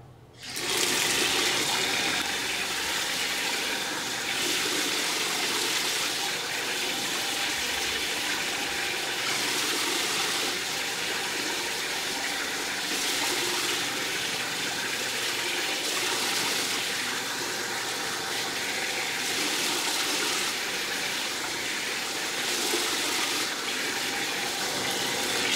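Tap water runs steadily over a washable HEPA and charcoal filter being rinsed, a constant loud splashing hiss that starts abruptly and goes on without a break, with slight pulsing changes as the filter is moved under the stream.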